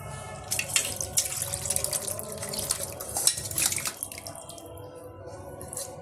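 Mutton pieces with whole chunks of fat, cooked Assamese style, poured from a cooking vessel into another pot, making a steady wet sloshing and splattering pour with scattered clinks, close and continuous for several seconds, no talking.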